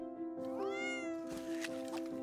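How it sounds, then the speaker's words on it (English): A cartoon cat in a Fortnite animation gives a couple of clear, drawn-out meows with rising and falling pitch, close and alone over a steady tonal music bed. "This poor cat just hungry."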